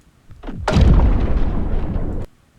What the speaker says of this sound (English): So let's say I want to use this sound effect right here, large underwater explosion.